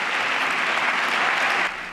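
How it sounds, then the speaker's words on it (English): A room full of people applauds a presidential proposal to make community college free, a dense, steady clapping that holds loud and even before dropping off abruptly near the end. "a room full of people applauds for the president's proposal"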